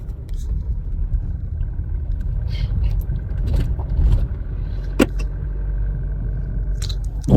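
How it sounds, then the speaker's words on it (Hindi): A car pulls out onto the road at the start of a drive from Seoni to Bhopal, its engine a low steady rumble with scattered clicks and knocks, heard from inside the vehicle, with no talk. "ये देखिए हम गाड़ी के निकाल चुके हैं बाहर।"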